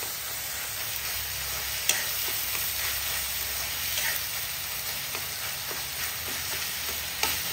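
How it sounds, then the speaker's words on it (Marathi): Tomato and onion frying in a pan at home, a constant close hiss of sizzling oil with occasional sharp clicks and scrapes of stirring, no voices. "बेगीन टमाटा आणि कांदा फ्राय जाता"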